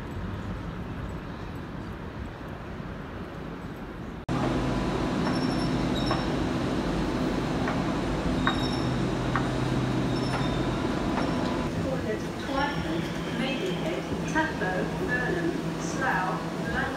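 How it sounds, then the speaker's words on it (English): A freight train passes near Reading Station, a steady low rumble with faint metallic squeals and clanks that grows fuller partway through, with other outdoor noise around it. "Another train just passed through here, and it's a freight line train."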